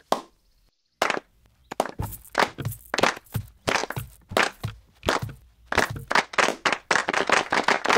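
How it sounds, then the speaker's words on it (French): A crowd claps in a burst after a brief pause, the applause dense and close, swelling into sustained clapping that continues to the end. "Allez, on tape dans ses mains."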